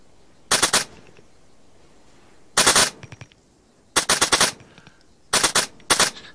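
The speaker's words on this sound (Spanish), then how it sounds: "Una ráfaga de 3 tiros." Machine gun fire in the military shooter game ARMA 3, five short loud bursts of a few rapid shots each, separated by pauses of quiet.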